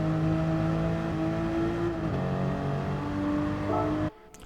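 A Porsche engine revs hard and shifts up in a VR racing video game, driven to minimise wheel spin. The engine note holds steady, climbs and drops at each gear change, then cuts off abruptly.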